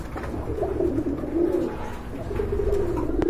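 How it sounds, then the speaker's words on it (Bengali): Red Bombay pigeons cooing close by in a loft, a continuous low throaty warble of overlapping coos with soft rustling behind, no talk. "এখানে কিন্তু আরেক জোড়া বোম্বাই কবুতর আছে, এটা কিন্তু রেড বোম্বাই"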